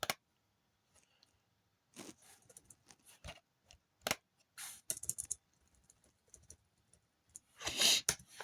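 Scattered bursts of keyboard typing, close and fairly quiet, with irregular clusters of key clicks separated by pauses, plus a louder rustle near the end.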